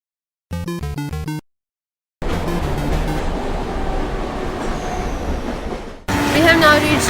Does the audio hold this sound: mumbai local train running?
yes